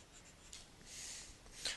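A marker or chalk scratches across a board in a chemistry lesson on acids and bases, leaving faint, soft strokes with a slightly louder scrape near the end, quiet and close.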